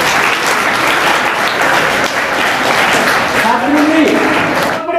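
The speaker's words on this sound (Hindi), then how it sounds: "तालियां बजाए भाई" Continuous, dense applause fills a school admission and prize-distribution ceremony at Arohi Model School in Gheerai, Hisar. A voice speaks over the clapping near the end.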